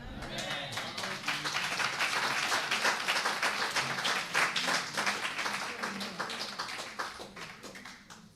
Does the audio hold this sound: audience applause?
yes